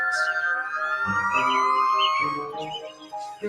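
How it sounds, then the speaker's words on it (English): Fire engine sirens wailing near a scrap yard, a loud close rising-and-falling tone with layered harmonic sweeps that holds for several seconds, joined by bursts of lower rumble and a faint voice. "The sounds of the fire engines."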